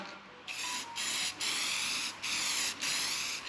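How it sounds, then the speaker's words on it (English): Rattle can primer sprayed onto a Ford Transit van in bursts, several hissing sprays close by separated by brief pauses. "just rattle can primer, nothing fancy"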